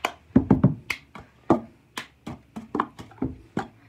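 A cup song routine plays out as hand claps and a cup tapped and slapped on a table in a quick, rhythmic pattern of about a dozen sharp, close hits with brief gaps, with no talk.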